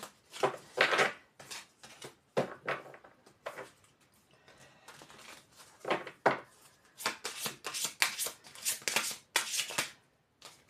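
Oracle cards being shuffled by hand in irregular bursts of crisp riffling and slapping, quiet and close, with short pauses between rounds.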